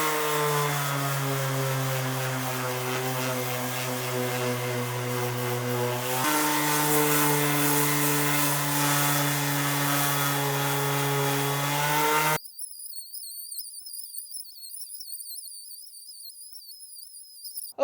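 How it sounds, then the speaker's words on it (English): Power sander grinding across a Nissan 240SX quarter panel covered in bondo, a steady loud tonal whine with a brief pitch shift before cutting off, followed by a thin high-pitched hum. "I'm just going in with this thing and sanding the entire quarter panel"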